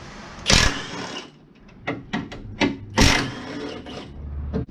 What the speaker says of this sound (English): We've got a 1/2 inch impact and a 15mm socket.